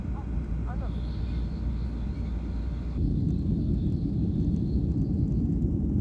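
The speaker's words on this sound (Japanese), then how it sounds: "飛行機が離陸していきました。" Steady, loud engine roar inside the cabin of a Jeju Air budget airliner bound for Seoul's Incheon airport, swelling noticeably midway as thrust builds for takeoff.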